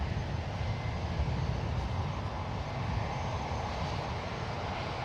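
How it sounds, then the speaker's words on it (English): An Air Canada Boeing 787 Dreamliner's GEnx engines roar on departure from San Francisco International Airport, a loud, steady broadband rumble sustained throughout with no voices. "Love the sound of those engines, those GENX engines on Air Canada."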